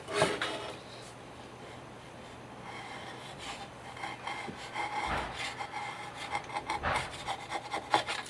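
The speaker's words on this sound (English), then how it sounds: "I'm just going to get my 3mm chisel now" A 3mm chisel scraped along the edge of a workpiece, a soft steady rasping rub that grows gradually louder and more uneven toward the end, close by with no talk.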